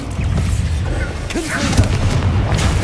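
Booming blast of the Bombarda spell in Hogwarts Legacy, a heavy, rumbling explosion with crackling debris that rolls on continuously, loud and close with game ambience underneath.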